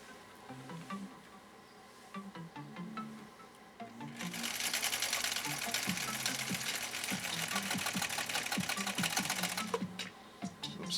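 A 1962 Husqvarna Viking Type 21E sewing machine starts stitching after some quiet handling clicks, then runs in a steady, fast whirring buzz with rapid needle ticks for several seconds before slowing.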